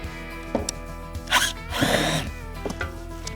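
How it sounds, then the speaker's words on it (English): A power drill backs screws out of the box of a BBQ03SS stainless steel grill, with short whirring bursts, a longer sustained spin in the middle, and a steady low hum underneath. "Got to take the screws out from here, from the other side, as well as at the base of the box."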